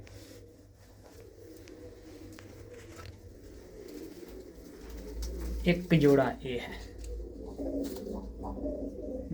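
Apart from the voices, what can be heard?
pigeons cooing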